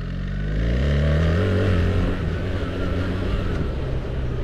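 A BMW R 1300 GS Adventure motorcycle under way, engine droning loudly with rising pitch as it pulls through a gear change into third, then settling into a steady rumble.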